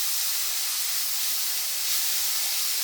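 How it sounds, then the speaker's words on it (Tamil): Grated amla sizzles in hot oil in a pan, a steady, loud, bright hiss that runs unbroken throughout with no talking. "அப்புறம் நம்ம துருவி வச்சுருக்க நெல்லிக்காய் போட்டு நல்லா வதக்கணும்."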